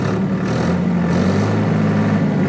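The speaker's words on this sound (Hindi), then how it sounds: "मैं पीटीओ लीवर को पीछे की तरफ कर रहा हूं और इंजन के चक्कर 2150 दे रहा हूं" A tractor engine runs at high revs, about 2150 rpm with the PTO engaged for 1000 rpm, a steady droning hum held at constant speed without talk.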